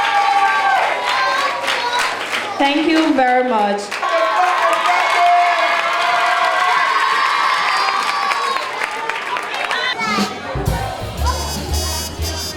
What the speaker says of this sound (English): Can everybody give yourself a round of applause